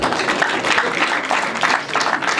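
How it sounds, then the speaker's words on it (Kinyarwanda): Guests at a Rwandan wedding clap together in steady, fairly loud applause that pulses in bursts, with faint voices audible beneath the clapping. "mwongere mubampera amashyi"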